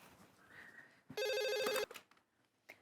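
A telephone rings indoors in a short, loud burst of a bright electronic trill lasting under a second, framed by quieter room sounds and no speech.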